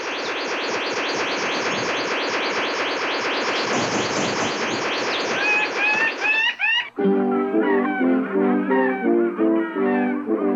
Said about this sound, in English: the blue bird of paradise, a male in full courtship display. Turned upside down on a branch, he makes this incredible sound.